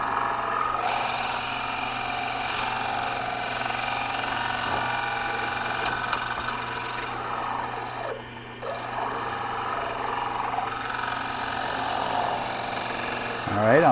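A drill bores a hole down through the wooden base of a spinning wheel's jumbo flyer, running with a steady, continuous whirring drone for over thirteen seconds, with a brief dip in pitch partway through.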